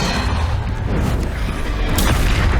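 A Depulso spell cast in the video game Hogwarts Legacy, a dense, sustained booming blast with loud low rumble throughout and a sharper burst near the end.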